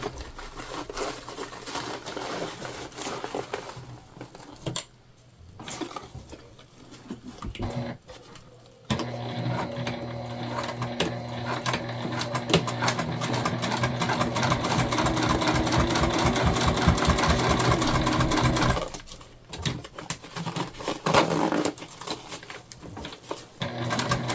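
A sewing machine stitches a pouch onto a crossbody bag, its rapid mechanical needle chatter running close and steady for long stretches, broken by short pauses and handling noises.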